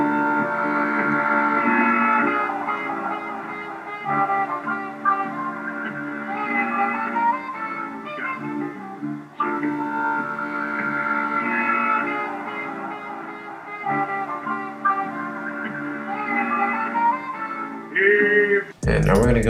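Sampled music for a verse played alone with no drums, a continuous melodic loop of layered tones at steady moderate loudness, ending with a brief burst of noise.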